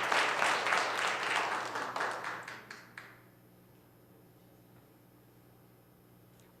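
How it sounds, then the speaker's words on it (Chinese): A church congregation at a prayer meeting claps to welcome a speaker, a brisk burst of applause that thins to a few scattered claps and fades into quiet room tone after about three seconds. "我们一起拍手来欢迎杨老师"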